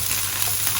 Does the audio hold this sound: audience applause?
no